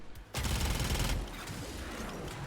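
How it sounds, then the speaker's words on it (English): A loud, dense burst of rapid gunfire from the video game Warframe, lasting about a second, then giving way to a steadier, quieter rumble of continued shooting and game noise. "Just that barrage of bullets is so great."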